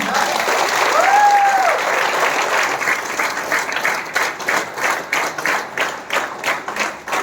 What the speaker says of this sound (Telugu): ఒకసారి మనస్ఫూర్తి క్లాప్ ఇద్దాం మనం